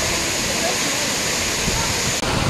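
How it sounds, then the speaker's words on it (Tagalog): Rushing water of Bomod-ok Falls in the Sagada mountains pours in a steady, loud, close roar of broadband noise with no break. "Ito ang Bumod Ok Falls."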